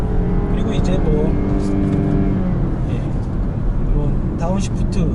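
A BMW 4 Series Gran Coupe in sport mode downshifts on a winding road, its engine note holding a steady, loud drone with shifting harmonic tones that step and bend as the revs change.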